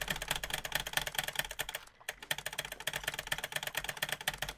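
Fast, continuous clatter of a mechanical keyboard being typed on, close and crisp with dense overlapping keystrokes and one brief pause midway, no talk.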